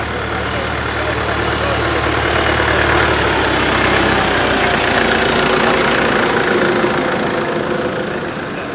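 Grey Ferguson tractor engine idling steadily at a tractor show, a continuous close rumble with broad mechanical noise throughout, and faint voices in the background.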